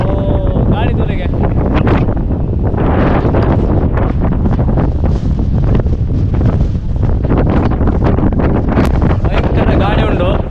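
Strong coastal wind buffets the microphone at Bekal Fort in Kasaragod, a loud continuous roar with gusty rumble throughout, while a voice talks underneath.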